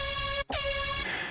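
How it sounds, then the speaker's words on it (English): A bright, buzzy FM synth rave stab held for about a second with a tiny break near the start, harmonically rich and brassy, loud and alone. "our next sound is this FM rave layer"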